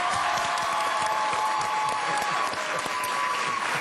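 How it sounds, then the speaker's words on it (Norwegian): Steady, dense applause and crowd cheering greet the evening's prize presenter at a live show, loud and continuous throughout. "Til å kåre kveldens vinnere så har vi med oss fra Spiterskjulen ved foten av Rollepiggen i en stor applaus til Bente Sulheim Ovesen!"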